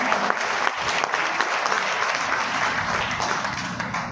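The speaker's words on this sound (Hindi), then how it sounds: "इनके लिए जोरदार तालियां बजाएं" Loud, sustained applause from a crowd welcoming new guests at an RCM meeting, many hands clapping in a thick, steady stream for about four seconds with no talk over it.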